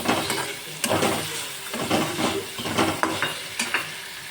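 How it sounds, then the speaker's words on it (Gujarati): Ginger, chili and garlic paste sizzles in hot oil in a pan, with repeated spoon scrapes and stirring knocks over a constant hiss, close up and without speech. "હવે એને પણ આપણે મિક્સ કરી લેશું ને એને હું ગોલ્ડન બ્રાઉન સુધી હું થવા દઈશ"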